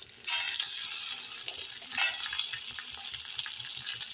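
Sliced okra goes into a pan of softened onion for sambar: a sharp sizzle bursts up as the pieces hit the hot oil, then a steady frying hiss with a second burst, close by and without voices.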